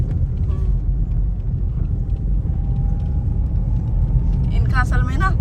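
A car drives along a rural road past fields, its low engine rumble and road noise steady throughout, with people talking over it.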